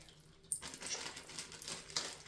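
Water pouring out of a pierced plastic bag, a faint, close trickling and splashing stream that starts abruptly and continues unevenly, with no talking.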